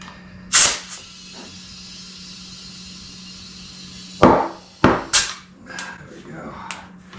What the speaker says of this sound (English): let's go ahead and get these beads to pop